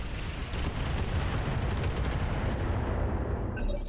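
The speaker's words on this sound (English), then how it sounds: "Hannibal the Cannibal, let's drop some missiles on this guy's ass" A dense missile barrage in the mech video game Roguetech roars as one continuous rumbling wash of launches and blasts, loud and sustained before trailing off at the end.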